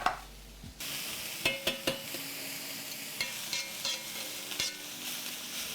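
Shredded cabbage sizzles steadily in a pan on a Big Green Egg grill as it gets browned and flipped, with a run of sharp scraping clicks from the utensil over the constant frying hiss.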